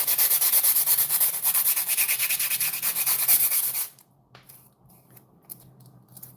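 Fingernails are filed with a nail file in quick, rhythmic rasping strokes, close and loud for about four seconds, then the filing stops and only faint handling noises remain.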